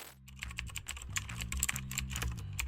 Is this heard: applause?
no